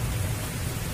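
Steady rain falling outside at a campsite, a dense, even hiss with a low rumbling undertone, continuous and fairly loud throughout.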